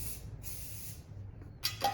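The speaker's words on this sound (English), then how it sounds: "I do a light mist of hairspray." A light mist of hairspray hits curled hair on a salon client, two short soft hissing bursts with a pause between, then a quicker double puff at the end.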